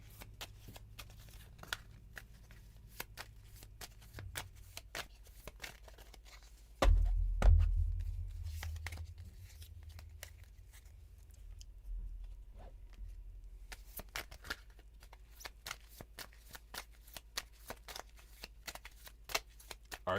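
Tarot cards being shuffled in quick, crisp riffles and flicks, steady and close throughout, with a brief low thump partway through.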